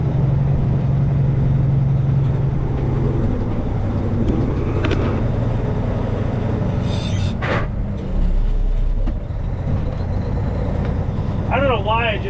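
An old International 9400 truck, an Eagle model with a bad engine speed sensor and a busted water pump, rumbles steadily while driving, with the deep engine drone broken by brief clunks and rattles of the cab.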